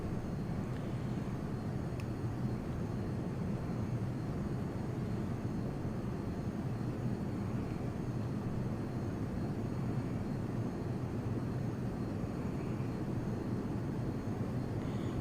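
An airplane engine drones steadily in the Prepar3D v2 flight simulator video game while flying around New York City, with a constant, even rumbling hum that never changes throughout and no talking over it.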